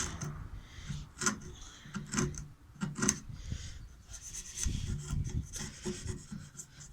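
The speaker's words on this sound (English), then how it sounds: "run the edge of our chisel along in the corners" A chisel edge scraped along the inside corners of a wooden cross halving joint for a bar stool, close rasping strokes in short repeated bursts, some quick and sharp, others longer and grittier, with no talk.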